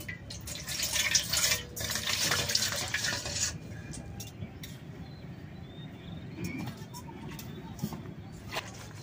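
Water is poured and stirred into a homemade whitening dye made from silk cotton flowers, with a loud splashing rush for the first few seconds, then softer swirling and clinks of a vessel.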